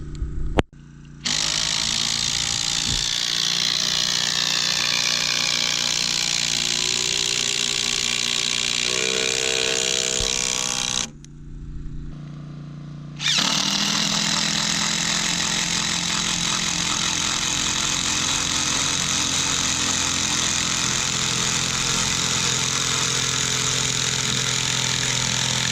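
DeWalt and Ridgid impact drivers drive screws while a fence is built, with a long, loud, close whirring, hammering run, a brief pause, then another sustained stretch of driving.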